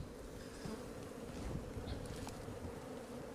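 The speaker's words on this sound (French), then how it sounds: "C'est une ruche bien colonisée." Bees buzz from an opened, well-colonized hive in a mangrove setting, a dense, faint, continuous hum close by with scattered individual bees flying past.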